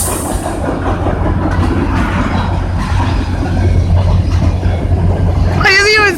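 A CN freight train rolls through Kingston train station with a continuous loud rumble and rattling wheels. Voices speak over it, and a sharp rising and falling squeal or horn-like tone comes in at the end.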